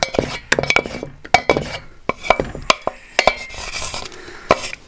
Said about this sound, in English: Now we'll put in our prawns and our onions